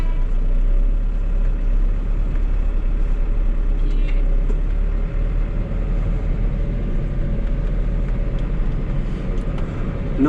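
A truck driving on a road in Turkey gives a loud, continuous low engine drone with steady road and tire noise, no talking.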